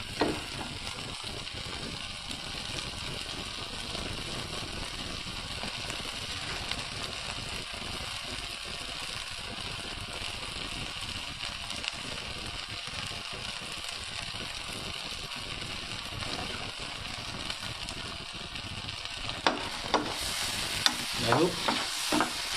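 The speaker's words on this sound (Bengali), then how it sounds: "আমুলের ক্রিমটা এখানে দিয়ে দিলাম। আমরা একটু নাড়িয়ে নিচ্ছি" Amul cream being stirred in a frying pan at the end of cooking, giving a steady low sizzle with soft continuous stirring and a few louder scrapes near the end, close and alone without talk.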